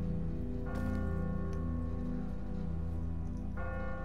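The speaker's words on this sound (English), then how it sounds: "Ask not for whom the bell tolls." A bell in a bell tower rings in The Walking Dead video game with deep sustained tolls that hum and linger throughout, a fresh strike sounding near the start and another near the end, loud and without speech.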